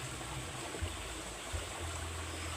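A cold stream flows in a steady, continuous rush of water, fairly faint and uniform, with a couple of soft splashes and no voices.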